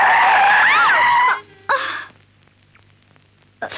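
A vehicle's tyres screech in a long, loud skid that ends in a sudden stop, followed by brief thuds, near silence, and then a short burst of commotion.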